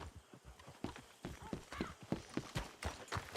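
Horse hooves in the Red Dead Redemption II video game, a quiet steady clip-clop of walking steps repeating evenly throughout, with no talk over it.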